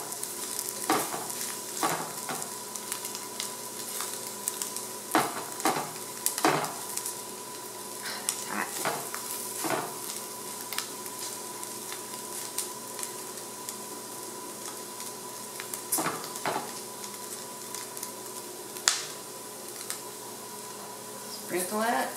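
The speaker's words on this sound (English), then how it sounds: "Now we just want to fry up both sides." Squirrel pieces fry in a pan for a squirrel and onion gravy, a quiet continuous sizzle broken by repeated scraping and stirring knocks, with a person talking over it.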